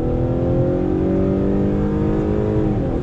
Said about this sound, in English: let's do a little acceleration test on throttle. 10-speed drops down and we are off and running